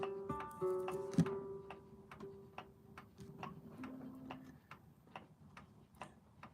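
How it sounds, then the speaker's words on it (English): A small clock ticks steadily and quietly, each tick evenly spaced, with faint background hum and a brief tonal sound near the start. "I've got this clock that's on my desk here, and it just started running. It just started ticking."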